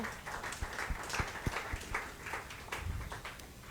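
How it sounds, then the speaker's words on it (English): An audience at an evening talk gives a round of applause, steady scattered clapping heard from a distance, fairly faint and continuous. "we also have a big round of applause for all of our sponsors"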